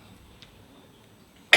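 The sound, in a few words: cough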